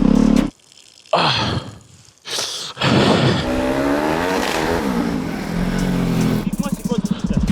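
A BMW turbo engine revs and accelerates loudly with a rising, sustained roar, with brief quieter gaps early on and a voice talking over it.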